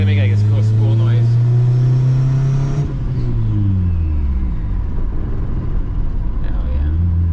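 A turbocharged Honda Civic with full exhaust revs hard, a loud rising engine drone that drops off and then rumbles and climbs again, heard up close with people talking over it.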